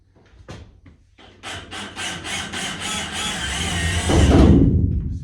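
Tools work through the wooden roof of a bus being fitted with a skylight. A few scraping strokes come first, then a rhythmic rasping cut that builds into a louder, deeper grinding toward the end.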